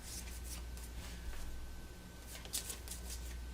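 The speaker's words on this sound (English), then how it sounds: "So shuffle these, hopefully." Cards for the board game Lost Ruins of Arnak are shuffled by hand in a steady, soft riffling rustle, close but faint, with no voices.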